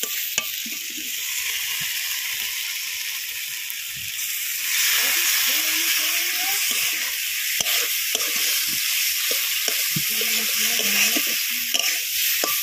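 Snail meat and fried potatoes sauté in spices in a hot pan, giving a loud continuous sizzle and hiss that grows busier midway, broken by frequent scraping stirs of a spatula.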